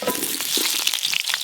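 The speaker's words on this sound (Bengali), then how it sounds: "এবার মাংসের আলুগুলো ভেজে নেব। সর্ষের তেল।" Potatoes fry in hot mustard oil, a steady close crackling sizzle with bright sputtering bursts throughout.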